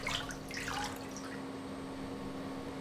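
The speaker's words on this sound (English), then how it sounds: "Afterwards, it's rinsed again." Water drips and trickles as plastic foil is rinsed during vinyl record manufacturing, a few quick splashes early on giving way to a steady low hum of factory machinery.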